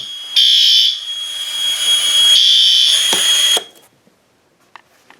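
A loud L-Series fire alarm under system test blares a shrill electronic tone for about three seconds, then cuts off abruptly, leaving quiet room noise with a few faint clicks.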